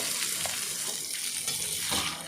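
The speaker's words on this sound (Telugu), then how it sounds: "ఇదిగోండి ఫ్రై అయిపోతుంది" Onions and mutton fry in hot oil in a pan, giving a steady, close hiss and crackle that runs on without a break.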